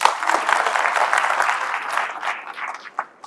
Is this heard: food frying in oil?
no